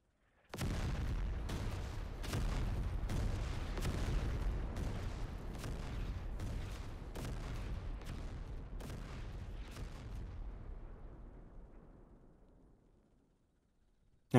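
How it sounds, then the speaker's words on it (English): A creeping barrage of very large artillery shells lands in a line in the WW1 game Over The Top, a rapid run of loud heavy booms for about ten seconds before rumbling away into silence. "the strongest one is a creeping barrage, and it drops a whole bunch of very large shells in a line"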